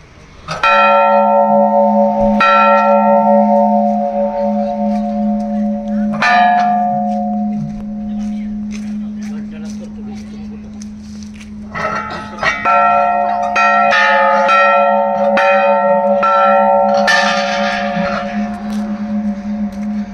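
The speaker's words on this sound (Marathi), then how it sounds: "आम्ही आपला घंटानाद घेणार." Brass bell at a Hindu Hanuman temple struck repeatedly in bursts, loud and near, with ringing tones lingering between strikes and a steady hum underneath, then a faster flurry of strokes.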